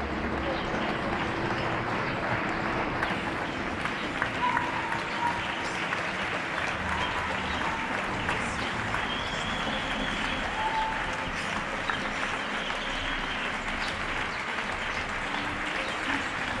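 Neighbors in Getxo applaud healthcare workers from the street and balconies, a continuous spread of clapping at medium distance, with voices talking nearby throughout.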